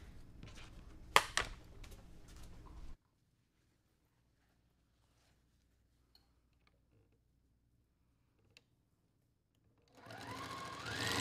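Sewing machine stitching a quilt made from jelly-roll fabric strips, a rapid mechanical whirring run of a few seconds, then near silence with faint ticks, then the stitching starts up again, close and clear.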